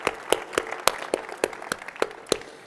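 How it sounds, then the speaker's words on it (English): Clapping at the DrupalCon Portland opening keynote, heard as a steady run of sharp, evenly spaced claps that sound close and fairly loud, with no voices over them. "Another round of applause."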